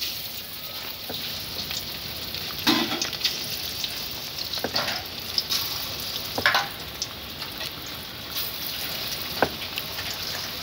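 Onion pakoda fry in hot oil with a steady bubbling sizzle, broken by a few louder crackles and spatters as more batter is dropped in; no talk is heard.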